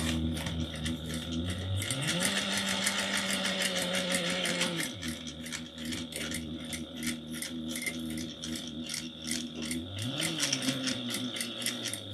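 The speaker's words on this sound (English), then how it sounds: "just try to follow your guides on your sewing machine" A sewing machine stitching fabric, running in fast rattling bursts with its motor whirring up, pausing briefly, then resuming at close range.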